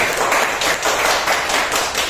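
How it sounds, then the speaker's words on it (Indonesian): A seminar audience gives steady, loud applause of many hands clapping, close and sustained throughout with no talk over it. "mari kita kasih tepuk apresiasi untuk Pak Wahyu dan Pak Anton"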